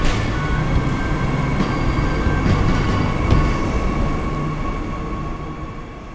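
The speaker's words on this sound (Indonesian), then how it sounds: "KRL ini berangkat dari stasiun Palur menuju ke stasiun tujuan akhirnya, yaitu stasiun Tugu," A KRL commuter train pulls away from Palur station bound for Yogyakarta, with a steady low rumble of wheels and carriages, faint high squeal tones and occasional clicks, gradually fading slightly toward the end.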